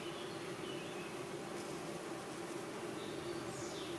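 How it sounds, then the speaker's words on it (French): Honeybees hum in a steady, faint, dense buzz around a queen placed among them in the hive, with no talking. "Donc je la pose au milieu des abeilles."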